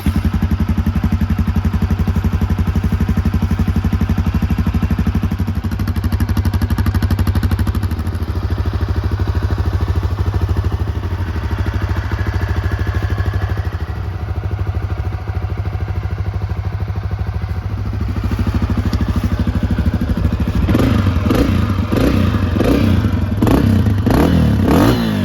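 A Honda CRF250F dirt bike engine runs close and loud with a steady, throbbing mechanical drone. Sharp, rapid rev bursts with clattering pulses build over the final seconds.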